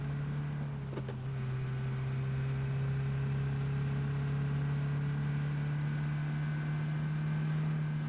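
A PUBG in-game car engine drones at a steady, loud pitch throughout, with a faint click near the start and no voices over it.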